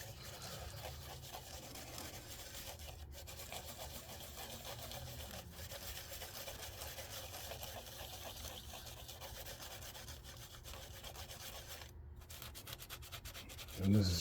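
Scotch-Brite pad and WD-40 scrub head gasket residue off a Nissan 300ZX Turbo engine block in small circles, a continuous close, faint rasping rub that runs steadily throughout, with a brief louder bump at the end.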